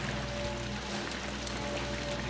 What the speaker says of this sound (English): Man, it's raining bad.